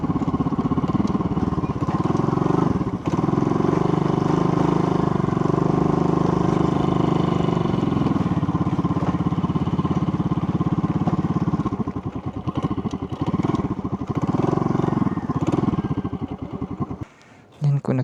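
A Rusi Surf 125 scooter engine runs steadily throughout at close range beside the Agusan River, with someone talking over the drone before the engine noise shifts and fades near the end.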